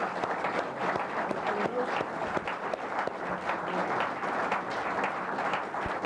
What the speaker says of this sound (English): How about one round of applause for Milton Berle,